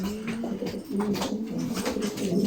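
Racing pigeons coo in low, repeated, throaty phrases, close and fairly loud, several calls overlapping steadily with no talk.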